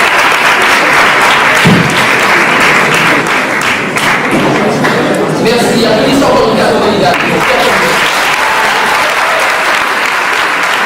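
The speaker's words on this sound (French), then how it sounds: "Merci, applaudissons." An audience at a French eloquence contest final in Bordeaux bursts into loud, sustained applause, a dense wash of clapping with a brief thump near the start and a faint voice buried in the crowd.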